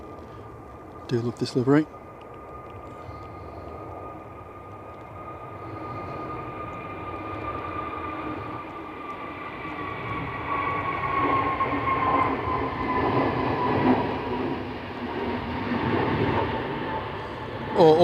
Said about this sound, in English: Egypt Air off to Cairo.